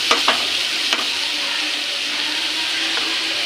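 Onions salted and sautéing in a pan for crab masala give a loud, steady sizzling hiss, with a couple of sharp stirring clicks near the start and no talking.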